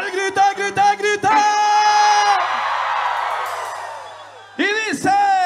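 A cumbia concert crowd shouts and whoops loudly, with drawn-out, strained yells that swell and fade, then break into a burst of short, excited cries.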